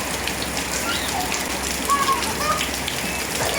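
Steady rain hissing down on a surface nearby, a dense, even patter with no pauses throughout.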